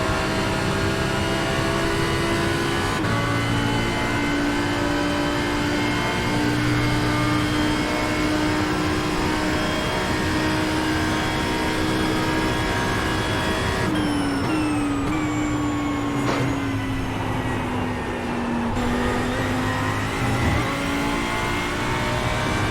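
A Porsche race car engine drones at high revs in a racing video game set at Daytona, a loud sustained whine that holds steady and shifts pitch at a couple of gear changes, with no talk over it.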